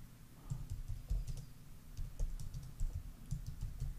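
Quick, close clicking of computer keyboard keys as text is typed into a Google Sheets formula, an irregular run of light taps with no voice over it.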